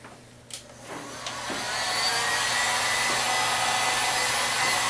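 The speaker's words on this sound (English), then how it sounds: "I am picking up my heat gun. Yes, it's from Harbor Freight." A Harbor Freight heat gun blowing hot air, starting with a couple of clicks and a low hum, then ramping up within two seconds into a loud, steady close-up whooshing blower roar.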